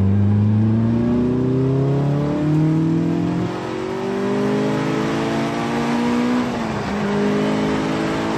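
A Caterham race car drives on a circuit at Croix-en-Ternois, and its engine accelerates through rising gears in a loud, sustained, close in-car roar, climbing in pitch with brief dips at the shifts.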